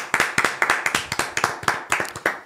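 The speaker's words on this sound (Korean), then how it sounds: "박수 한번 치시죠." Rhythmic clapping from a small group in a Korean football talk-show studio, about a dozen sharp, evenly spaced claps close to the microphone.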